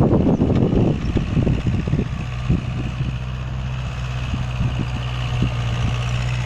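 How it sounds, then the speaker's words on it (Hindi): Steady engine drone of a Kubota MU4501 tractor working a rotavator in third low gear, holding constant revs with a low hum and some rattling knocks early on, no talk. "ट्रैक्टर बिल्कुल भी आरपीएम ड्रॉप नहीं कर रहा है"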